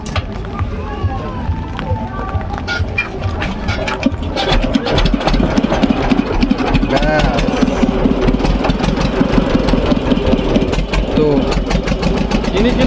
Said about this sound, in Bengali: তো আর কিছুক্ষণের মধ্যেই ভটভট আওয়াজ শুরু হতে চলেছে